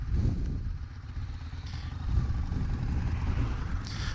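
A 2015 Yamaha Star Raider 1900 cruiser motorcycle being ridden, its low engine rumble steady and loud throughout with wind noise and slight swells as the throttle changes.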